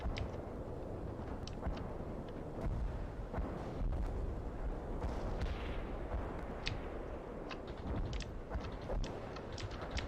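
Airstrike and close air support explosions in the World in Conflict strategy game boom out repeatedly, heavy rumbling blasts and sharp cracks layered over a constant thunderous din, with no voices.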